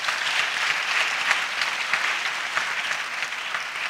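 A church congregation at Emmanuel Ministries claps loudly and steadily, a thick unbroken wash of hands with no voices standing out.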